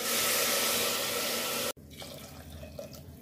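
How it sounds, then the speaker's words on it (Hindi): A steady rush of water pours into a pot for fenugreek rice, loud and continuous, then cuts off abruptly and leaves quieter sloshing and small splashes as it settles. "अब मैं इसमें ऐड करूँगी पानी।"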